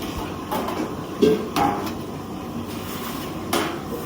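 Food containers being set out in a hotel kitchen in Japan: a few scattered clinks and knocks of vessels against surfaces, separated by quiet gaps over a faint background hum.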